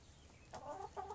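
Chickens clucking faintly in the distance, a couple of short soft clucks over quiet outdoor background noise.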